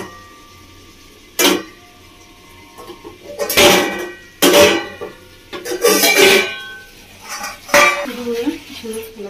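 A metal cooking pot lid clanks and scrapes as it is lifted and set down while singi fish simmers in a spicy oil curry on a gas flame. Several sharp, loud clinks and rattles arrive in irregular bursts over a low background hum.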